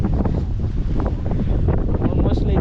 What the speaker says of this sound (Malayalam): കാറ്റാണ് മക്കളെ, കാറ്റ് നല്ല രസമുണ്ട്